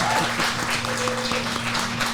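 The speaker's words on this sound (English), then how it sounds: "Please give her a round of applause." Audience applause at a launch event, a brief steady patter of clapping over a constant low hum.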